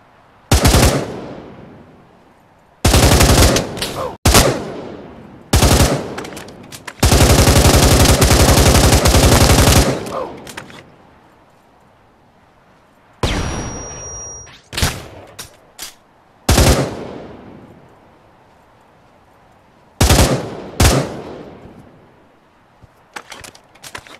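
Video game gunfire, loud and close: sustained automatic bursts alternating with single sharp shots and short pauses, one long continuous spray in the middle, with no talking.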